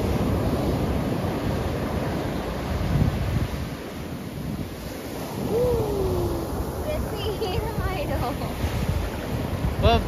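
Surf at Marina Beach in the early morning rolls in with a steady, loud wash, mixed with wind buffeting the microphone and a faint distant hoot.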